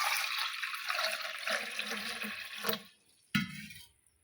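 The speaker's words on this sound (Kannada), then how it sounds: "ಈಗ ಇದಕ್ಕೆ ನೀರು ಹಾಕ್ತೀನಿ ನೋಡಿರಿ" A stream of water pours into flour for a few seconds and then stops, followed by a short splash and a brief trickle.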